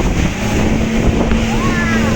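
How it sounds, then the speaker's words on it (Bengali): A speedboat speeds across Halong Bay in Vietnam, its steady engine roar and rushing water mixed with wind buffeting the microphone, loud and continuous; the boat passes between two big islands. "স্পিডবোট ছেড়ে দিয়েছে, দারুণ।"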